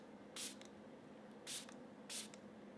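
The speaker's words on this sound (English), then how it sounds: "I'm gonna add more moisture again with my Dalba Mist" Dalba face mist sprayed onto the face in three short hissing bursts, spaced about a second apart, close and clear in a quiet room.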